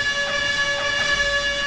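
A loud, sustained air horn alert tone from a World of Warcraft add-on holds steady throughout, harsh and buzzy with a slight pulsing wobble.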